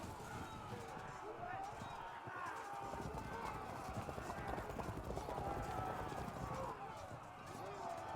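Horse hooves gallop in a continuous, busy clatter through a strategy video game battle, with troops on the move, heard alongside ongoing talk and the noise of the game.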